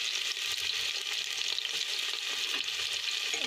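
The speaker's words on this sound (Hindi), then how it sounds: "अब हम डालेंगे प्याज और लहसुन कटे हुए।" Chopped onion and garlic fry with cumin seeds in hot oil, a steady close sizzle with soft crackles and occasional stirring scrapes running throughout, with no talking.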